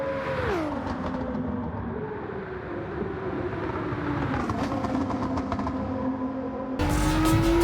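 Nissan GT-R R35 Nismo engine in Gran Turismo 7, revving hard under acceleration with rising, falling and climbing pitch through gear changes, loud and continuous, with a sharper burst of revs at the end.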